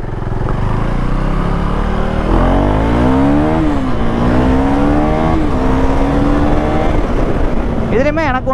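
A Husqvarna Svartpilen 401 motorcycle engine revs up and down close by, loud and continuous, rising and falling in pitch several times, with a sharp high rev near the end.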